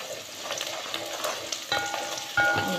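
Crushed garlic frying in a pan for a chicken moloukhia dish, a steady close sizzle with occasional stirring scrapes and brief metallic clinks, no voices.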